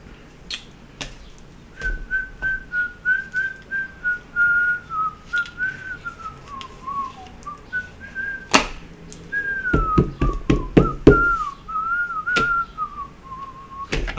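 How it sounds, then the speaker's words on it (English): A person whistles a song tune in a wavering, melodic line, close and fairly loud, accompanied by scattered sharp taps and knocks. "I don't know why I keep whistling that song"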